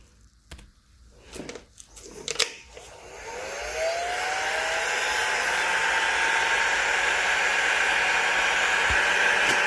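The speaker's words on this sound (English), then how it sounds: "I'll use a heat gun to try and help break this loose" A heat gun warms the lock ring on a 2.8hp Rebel Series grinder. It starts after a few scattered clicks and taps, rising into a loud, steady blowing roar with a faint whistling whine that holds to the end.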